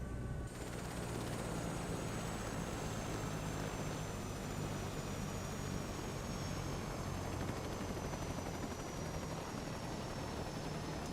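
A helicopter in Microsoft Flight Simulator 2024 winds down after shutdown on an oil rig delivery, its steady turbine whine and rotor rumble droning on at low level without pause.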